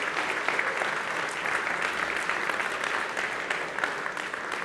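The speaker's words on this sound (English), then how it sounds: "Please give them a round of applause." Applause from the audience at a programming contest closing ceremony, honoring sponsor Huawei, a steady wash of many hands clapping heard at a moderate distance, continuous for a few seconds.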